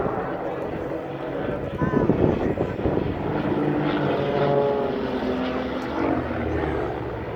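Grob Tutor propeller aircraft rolling through a big barrel roll at an air show, a steady engine drone rising and falling at moderate distance, with a commentator talking over it.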